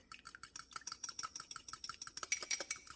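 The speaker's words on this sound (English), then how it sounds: "I'm going to go ahead and just break this into a bowl and scramble it a bit" A whisk or fork beating an egg in a bowl, quick rhythmic clicks repeating steadily for a few seconds, close and fairly quiet, with no voices over it.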